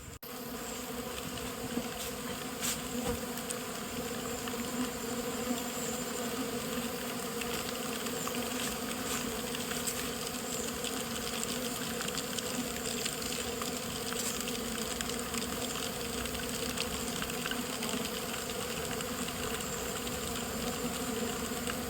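Stingless bees swarm around a divided colony box, their steady, dense buzzing filling the air continuously and close by, with no voices over it.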